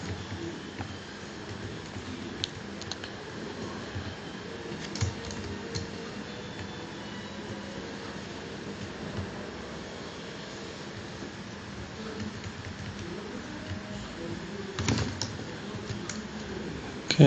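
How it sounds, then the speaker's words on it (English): Fairly quiet, steady typing on a computer keyboard while debugging Python code in Emacs; soft clicks run continuously over a low room hum, with a few sharper keystrokes standing out. "I'm typing things correctly."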